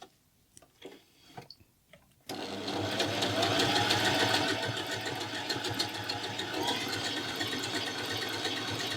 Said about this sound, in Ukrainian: І ту ж тканину прошиваємо імітацію верлака.